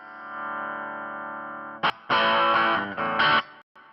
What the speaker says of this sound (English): that's just the Hot Tone amp by itself.